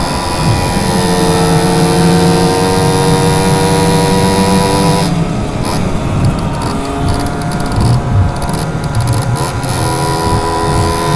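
A Simson S51 moped's two-stroke engine buzzing loud and constant while riding, with the engine note wavering through the second half and no talk.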